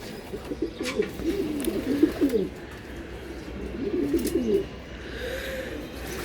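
Racing pigeons at a loft in Mirpur, Dhaka, coo in two clear rolling bursts with a fainter third, nearby and alone against quiet outdoor background.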